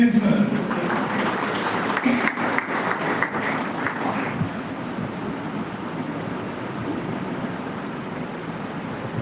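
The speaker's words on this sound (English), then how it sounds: "please give a big round of applause to Chairman, sir" Audience applause for the college chairman at a Minerva Group of Colleges function in Indora: steady, close clapping that runs throughout, a little fuller at the start before settling into an even patter.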